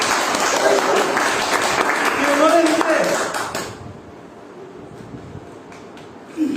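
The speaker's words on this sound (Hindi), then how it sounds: "जोरदार तालियां उनके लिए।" Audience applause at an academy gathering in India, a loud dense wash of clapping for the first few seconds with a voice over it, then cutting off to quiet room tone.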